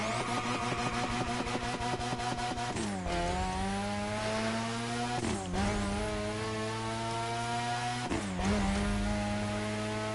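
A rotary-swapped car in The Crew Motorfest brapping at idle and low revs, a steady buzzing engine note broken by three sharp throttle blips that rise and fall, loud and close with no talk.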